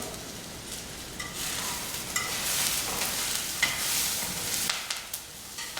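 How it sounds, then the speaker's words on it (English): Steady crackling sizzle of brown rice toasting in hot oil in a pan, with occasional scraping stirs and small pops, close and continuous. "Just let that rice toast for about a minute."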